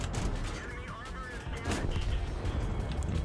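Booming T69 tank cannon shots in World of Tanks, several heavy blasts with rumbling echoes against a noisy battle background, fairly quiet overall.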